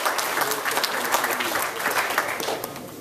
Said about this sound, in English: let's give all four of them a big round of applause